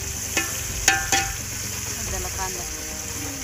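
Onions frying for a goat biryani tempering in a pot on a wood-fired chulha, a steady close sizzle broken by a few sharp clinks of a stirring utensil.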